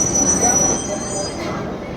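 A crowded passenger train rolls in with steady broadband rumble and a sustained high metallic wheel squeal, loud and close throughout.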